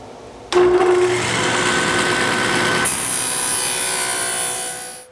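A dado stack on a saw bites into wood with a sudden loud whine, grinding steadily through a groove cut, then the tone shifts and winds down as it finishes.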